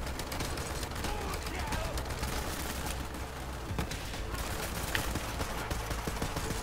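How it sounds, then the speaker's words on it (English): Rapid gunfire in Borderlands 3 co-op gameplay, with dense bursts of shots and sharp cracks at a steady level mixed with other game sounds. "Did you just shot me?"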